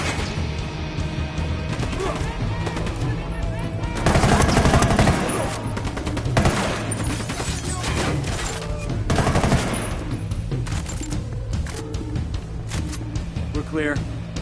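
Sustained gunfire in the tactical shooter Ghost Recon Wildlands, with dense automatic bursts and heavy blasts swelling into louder stretches over a constant battle din, with voices in the mix.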